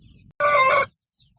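A single short, loud call from a Peruvidai game chicken, close by, with faint clucking and quiet background before and after.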